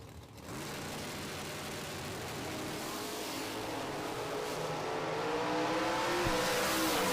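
A Chevy II hot rod drag racing at Maryland International Raceway roars loudly and steadily throughout, its engine note rising as it pulls hard down the strip with no voices over it.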